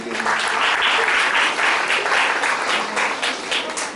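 Steady, dense audience applause filling a school prize distribution ceremony in Haryana, loud and continuous throughout with no break.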